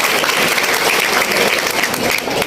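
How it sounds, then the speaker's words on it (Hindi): Loud, sustained applause from parents and guests at a laptop distribution ceremony for students, welcoming a government minister; steady dense clapping from a large crowd with no pause. "जोरदार ताली बजाकर आप माननीय मंत्री जी का स्वागत करें"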